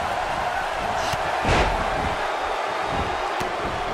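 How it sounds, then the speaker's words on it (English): A body slam in the wrestling video game WWE 2K18 lands with a single heavy thud partway through, set against a constant roar of arena crowd noise, with a fainter impact following later. "She slams her down with great force."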